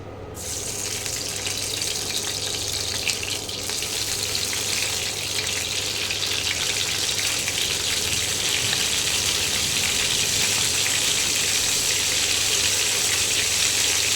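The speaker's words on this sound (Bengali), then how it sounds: "তেলটা গরম হয়ে গেছে, এবারে আমি ডিমগুলোকে আস্তে আস্তে ছেড়ে দিচ্ছি।" Duck eggs slide into hot oil laced with a little ghee and fry with a steady, bright hiss that holds evenly, moderately loud and close, with no voices.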